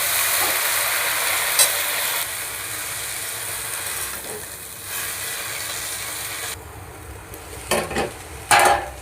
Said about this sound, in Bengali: দেখো কি সুন্দর ভাজা ভাজা হয়ে গেছে